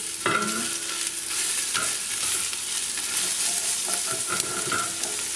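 Chicken and vegetables are stirred and mashed in a hot pot for soup, with a steady sizzle and scraping bursts close by.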